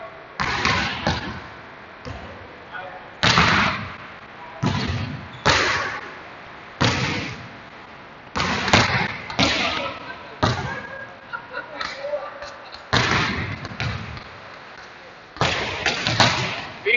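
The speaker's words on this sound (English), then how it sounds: "Go with your slams when you're ready." Heavy slam balls thud repeatedly against the floor during a bodyweight and loaded workout, with loud impacts coming in uneven bursts while a coach gives instructions over them.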